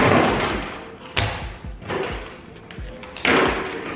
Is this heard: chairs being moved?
yes